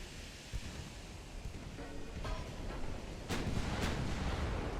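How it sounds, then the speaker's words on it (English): Shell splashes erupt in the sea around warships in Ultimate Admiral: Dreadnoughts, faint, distant bursts of spray rising over a low wash of wind and surf, with two sharper splashes near the end. "Ooh, a lot of splashes all around"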